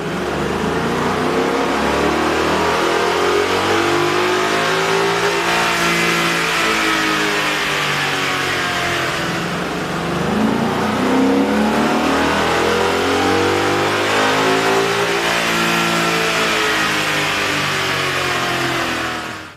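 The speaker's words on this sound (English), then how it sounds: "we ran the vehicle on the dyno to test the sound comparison versus the stock intake" A car fitted with a K&N 63-2578 cold air intake revs hard on a dyno. The engine note is loud and sustained, rising and falling smoothly through long pulls, with no voices over it.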